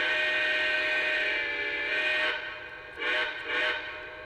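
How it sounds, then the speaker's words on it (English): Lionel Union Pacific 4-12-2 model train whistle blowing a sustained multi-tone chord, then two short toots near the end, heard close and clear with no talk. "So there's 4 other whistles, so we'll go ahead and listen to those. Here's number 2."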